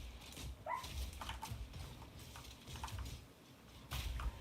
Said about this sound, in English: My dog just had a bad dream.